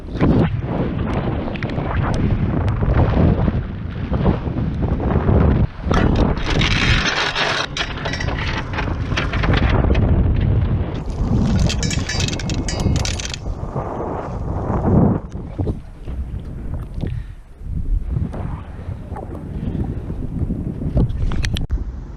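Loud, roaring wind buffets the microphone in heavy gusts aboard a sailboat off Cuba's northern coast, rising and falling over a constant rumble, with splashing water sounds underneath.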